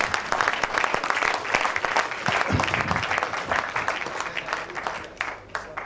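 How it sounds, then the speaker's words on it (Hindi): Training participants at a group session break into loud, sustained applause, a dense crowd of clapping hands with some voices mixed in, fading slightly toward the end. "जोरदार तालियां, जोरदार तालियां।"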